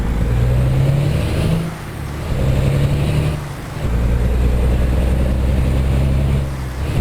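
In American Truck Simulator, a truck's heavy engine drones and builds under acceleration while hauling the heaviest load, rising, dipping and surging again in steady cycles, with no one speaking.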